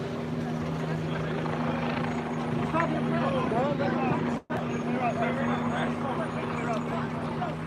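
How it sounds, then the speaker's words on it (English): A police helicopter drones steadily overhead at a Brooklyn street protest after curfew, its low rotor hum constant beneath overlapping chatter, broken by a brief cut midway. "That's the helicopter."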